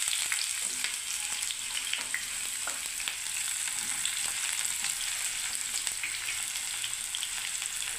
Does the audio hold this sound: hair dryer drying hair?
no